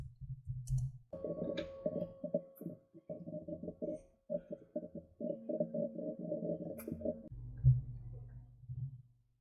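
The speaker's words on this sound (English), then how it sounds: "So let's click right here, get instant access." Soft, close clicks come from a computer mouse, scattered over a faint tonal background, and nobody is talking.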